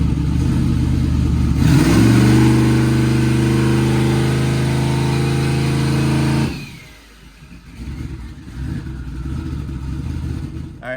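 A turbocharged car engine using nitrous to spool the turbos revs hard and holds a loud, steady high-RPM roar close by for several seconds, then drops abruptly to a lower, rougher idle.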